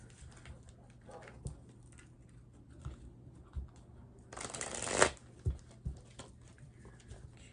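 A deck of tarot cards being shuffled: a quiet riffle of cards, then a loud, dense burst of shuffling partway through, followed by a few soft taps as the deck settles.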